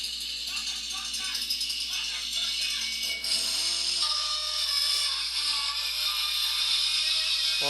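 A video-game chainsaw in Minecraft's Advent of Ascension mod buzzes and revs in uneven bursts, its pitch sliding up and down within a dense, noisy game soundscape.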